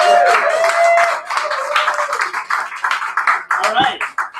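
Close, sparse hand claps ring out from a small audience at a poetry reading, starting under a speaking voice and then continuing in uneven bursts.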